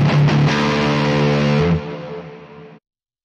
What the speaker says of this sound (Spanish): Ya por default suenan ajustados y es muy agradable su saturación y distorsión.